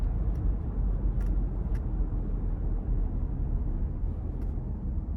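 A 2017 Lexus RX 350 with 75K miles accelerating in sport mode, a steady low engine and road rumble that holds loud and constant throughout, heard from inside the cabin with no talking.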